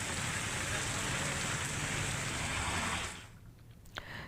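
Drizzling rain over villages in the Gujarat countryside, a steady broadband hiss that holds for about three seconds and then drops away to near quiet, with a brief faint knock at the end.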